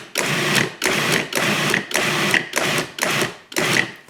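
A food processor chops onion and garlic in short, loud pulses, six even bursts with brief gaps between them and no voices.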